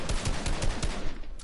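Rapid bursts of automatic gunfire from shooting an enemy in Fortnite, a fast rhythmic volley of close, loud shots with no talking.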